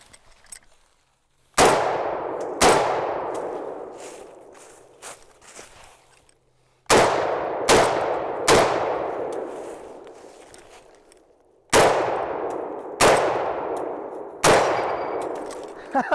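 An M1 Garand rifle fires three quick strings of loud, sharp shots with ringing decay, each string of three or four reports spaced about a second apart, separated by short pauses, with the metallic ping of the ejected clip.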